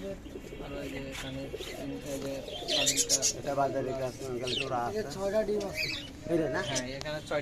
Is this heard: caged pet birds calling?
yes